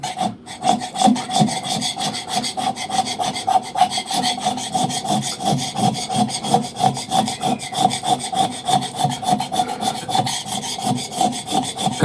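A blunt chisel scrapes across a very hard piece of yew wood in steady, close back-and-forth strokes, a rasping rhythm that continues without pause and without any voices.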